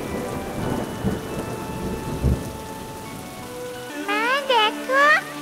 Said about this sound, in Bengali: মা দেখো, আমাদের ঘরের চাল দিয়ে বৃষ্টির পানি পড়ছে